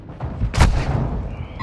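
A single loud gunshot booms close by in the video game Call of Duty: Resurgence, then fades into a short decaying rumble.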